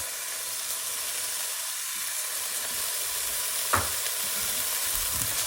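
Oyster mushrooms fry in oil with a steady crackling sizzle, while a utensil stirs them, producing a sharp scrape about two-thirds of the way through and lighter scrapes near the end.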